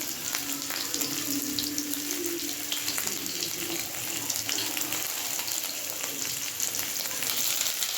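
Stuffed fish frying in hot oil, a steady soft sizzle and crackle that runs without pause, fairly quiet and close, with no talking over it.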